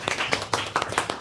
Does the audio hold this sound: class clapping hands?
yes